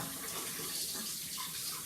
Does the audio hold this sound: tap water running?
yes